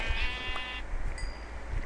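A sheep in the video game Minecraft bleats once, a clear, close, wavering synthetic bleat, followed by a couple of short high game tones, with no talking.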